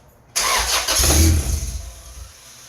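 A GSR-swapped Honda EK sedan engine cranks and catches abruptly, roaring up loud for about a second before its rumble wavers and fades toward an uneven idle.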